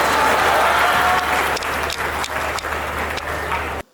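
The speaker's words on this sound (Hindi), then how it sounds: "ताली बजाओ ताली।" Audience at a Hindi kavi sammelan (poetry gathering) breaks into dense, loud clapping that holds steady, thins slightly midway, then stops abruptly near the end.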